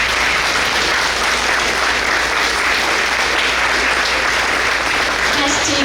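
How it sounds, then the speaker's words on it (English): Sustained, loud audience applause at a State of the District breakfast event, a dense wall of clapping from a large crowd that continues without a break throughout. "Please stand up and let us give you a round of applause."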